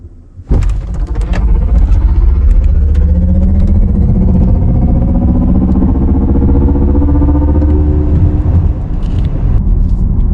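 A 2023 Mercedes EQE 350+ single-motor electric car surges forward at full throttle from a standstill, a loud sustained whine and rumble climbing steadily in pitch for about ten seconds, close and continuous.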